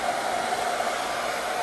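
A hair dryer blows steadily and loudly with no pauses, a constant airy whoosh drying a craft transfer on a piece of cedar.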